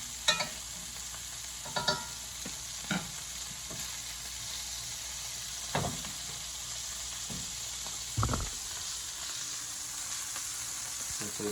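Venison steaks fry in Crisco shortening with a soft continuous sizzle, punctuated every second or two by brief clanks and scrapes as the meat is turned in the pan.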